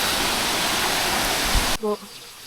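Steady, loud rushing of a strong-flowing river current in a forest near a beach in Albay, Philippines fills most of the clip, then cuts off abruptly into quiet near the end.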